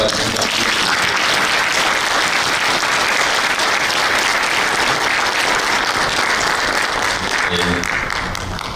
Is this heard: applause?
yes